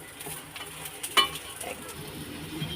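Spices with chilli, turmeric, garam masala, salt and a little sugar sizzle softly in a hot pan while being stirred, a low steady hiss broken by a brief clink of the spoon.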